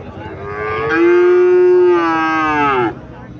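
A black Sahiwal bull calf at a cattle market in Chandimura, Cumilla, gives one long, loud moo that rises and holds steady for about two seconds before cutting off, close to the listener.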